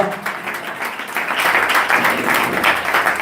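A church congregation at a servants' installation service applauds, a dense, sustained wash of clapping that swells after the first second and continues steadily, with voices mixed in.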